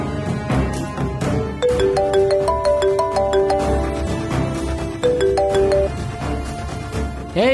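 A mobile phone plays a melodic ringtone for an incoming call in a Kannada TV serial scene, a clear looping electronic tune repeating for several seconds, loud and alone.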